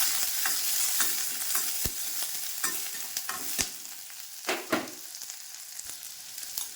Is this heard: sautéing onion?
yes